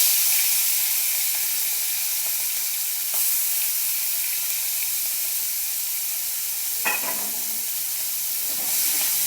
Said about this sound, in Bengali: এবারে নুন হলুদ মাখানো চিংড়ি মাছটা তেলে দিয়ে দিচ্ছি